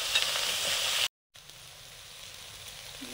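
Brinjal (eggplant) pieces frying in oil give a steady, close hissing sizzle that cuts out briefly to silence, then carries on a little quieter.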